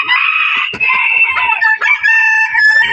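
Short-legged bantam chickens on a farm in the evening: a rooster crows in long, loud, drawn-out calls close by, broken by short clucks from the flock.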